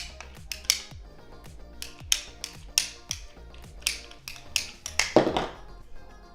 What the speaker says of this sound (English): So ditch the hacksaw, get a PVC cutter.